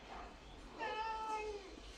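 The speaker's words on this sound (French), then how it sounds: "Oui, mon chat." A pet cat meows indoors, a drawn-out moderately loud call after a faint earlier mew, over a quiet room with no speech.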